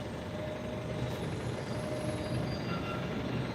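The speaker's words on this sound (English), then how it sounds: "I think we got one of the trains coming back." A light rail train passes with a continuous low rumble of wheels on track, a faint high squeal and tonal whine, steady and moderately close.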